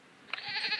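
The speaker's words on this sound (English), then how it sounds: "Goat, don't come to my..." A goat in the video game Trigger Fist bleats once, a short nasal cry that rises after a faint click and stays fairly close and clear.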